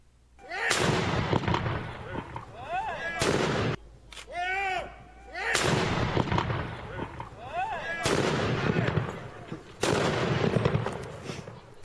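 Cannon salute shots fired outdoors at the Pentecost Schüttenhoff marksmen's festival in Bodenfelde; several loud booming blasts spaced a few seconds apart, each echoing and trailing off, with crowd noise and voices between shots.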